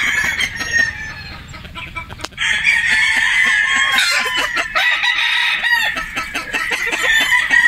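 A Boston Roundhead gamecock rooster crows loudly and close by, with a long sustained call after a brief pause, and clucking and other farm sounds around it.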